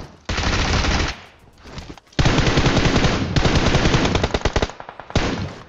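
Loud rapid automatic gunfire in the mobile game PUBG Mobile on the Erangel map, long sustained bursts broken by short pauses, dense and close, with no talking.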